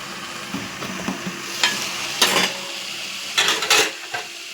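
Potatoes and tomatoes frying in oil while being stirred, with a steady low sizzle and several brief scraping clatters of a utensil against the pan, close by and without voices.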